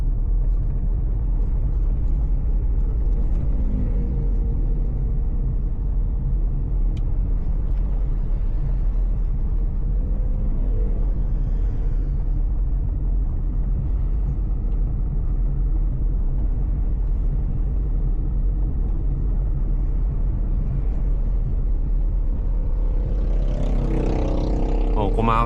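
A Suzuki S-Presso with an automated manual gearbox engine-brakes down a sloping road, producing a continuous low cabin rumble and road drone that swells slightly near the end.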